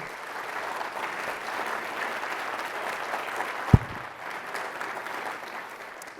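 An audience at a Dana-Farber cancer care tribute applauds its new president and CEO with steady, moderately loud clapping lasting about six seconds, one sharp thump near the middle and a slight tapering at the close.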